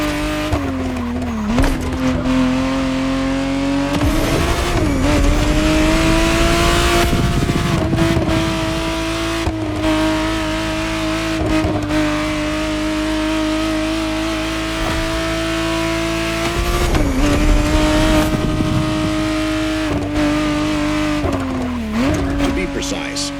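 Ferrari Testarossa 512 TR, the 1991 re-engineered version, in the racing game The Crew Motorfest: a loud, sustained engine roar rising and falling through gear changes, with several tire squeals and skids along the way.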